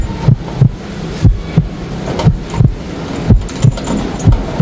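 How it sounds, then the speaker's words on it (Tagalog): Strong wind gusts batter a rooftop loft in Taiwan, coming as loud, rumbling low blasts about once a second over a constant roar. "Sobrang lakas ang hangin."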